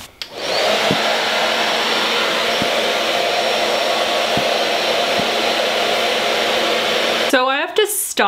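Hygo hair-drying cap running on hot: a steady loud blowing whir held close for about seven seconds, then cut off, leaving brief rustling and a few squeaky handling noises at the end.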